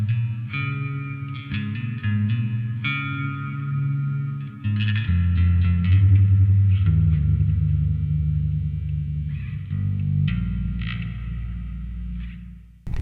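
Bass guitar played through an ethereal reverb expression pedal, notes swelling into a washy, chorus-like shimmer with long echoing tails, loud and sustained with deep rumbling low notes toward the end.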